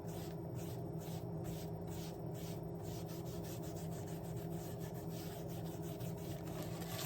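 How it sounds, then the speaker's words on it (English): A wooden tray has finish rubbed into it by hand, a steady soft scrubbing that runs without a break over a low constant background hum. "Making sure we get it rubbed in because you don't want any streaks."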